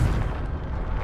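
A Confringo blasting spell explodes in Hogwarts Legacy, one loud, heavy, booming blast with deep rumbling low end that fills the whole brief moment close up.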